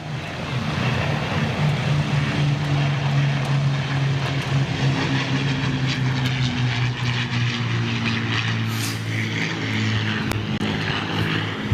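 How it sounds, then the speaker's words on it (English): Spitfire Merlin piston engines drone overhead at an air display, a steady, deep propeller roar that holds loud throughout with a slight shift in pitch near the end. "those Merlin engines are probably the best sounds you're going to get"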